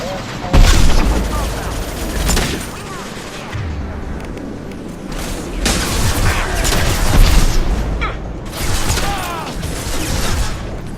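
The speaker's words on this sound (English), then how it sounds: "Ship fire from the coast." In the Mass Effect 2 video game, a ship fires from the coast. Heavy booms and rumbling bursts of gunfire roll on continuously and loudly, mixed with other game sounds, and voices speak at times.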